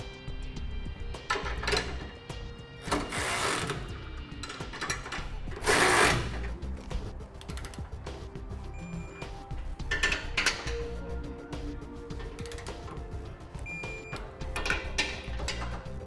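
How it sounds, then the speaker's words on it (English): Power tool tightening bolts on a B and W heavy-duty trailer hitch receiver being installed on a 1986 Chevrolet, with a steady mechanical whir and several louder short bursts of rattling, driven fastening over continuous background hum. "Now we'll go ahead and tighten down our center bracket and all of our bolts here and then torque them to manufacturer specifications."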